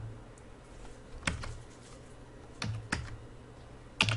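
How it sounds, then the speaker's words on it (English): Sparse keyboard taps on a point-of-sale register, a few isolated clicks and a quick double tap, close by over a quiet room hum with no talking. "Or I can just start typing."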